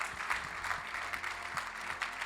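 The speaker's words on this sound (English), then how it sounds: "Encore de grands applaudissements pour Monsieur George Weah." Audience applause at the 2022 Peace and Sport Awards ceremony, a steady dense clapping from a crowd that holds even throughout with no pauses.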